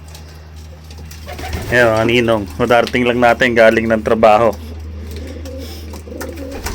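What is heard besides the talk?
pigeons cooing in a loft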